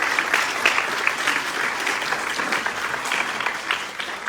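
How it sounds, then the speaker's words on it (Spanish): Steady audience applause fills a university hall after a Social Work journal presentation panel, dense even clapping without pause for a few seconds. "Les pido un aplauso, por favor, para despedirme."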